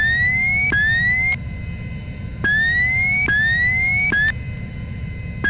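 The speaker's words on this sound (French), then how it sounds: "débranche-moi cette alarme" An electronic alarm siren repeats rising whoops in a steady cycle, loud and insistent over a low rumbling background.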